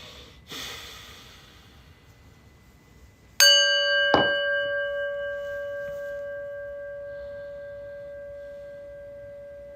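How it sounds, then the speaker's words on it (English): A small prayer bell is struck once for meditation after a breath and a soft thump, ringing out clearly and then fading slowly in a long, pure, sustained tone in a quiet room. "the way we're going to get started is with a little prayer bell"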